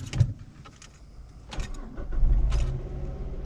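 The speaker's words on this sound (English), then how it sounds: "So let's turn the car on." A car has just had its brake lines bled. A few faint clicks precede a brief cranking whir, and the engine catches and settles into a steady low idle hum that grows louder and continues to the end.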